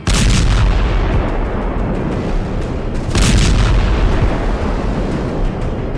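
Iskander missile strikes hit a residential area of Kharkiv, loud heavy blasts rumbling with rolling roars, with a fresh sharp burst partway through.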